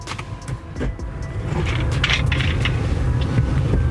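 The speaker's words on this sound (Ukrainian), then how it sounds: "Поїхали кататися, випробувати авто, дорога дальня." A Land Rover Discovery Sport drives along with a steady low engine rumble and road noise, plus occasional rattles and clicks inside the cabin.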